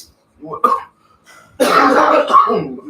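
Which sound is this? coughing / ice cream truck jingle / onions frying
coughing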